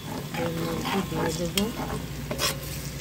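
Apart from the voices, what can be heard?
onion frying in a pan for prawn biryani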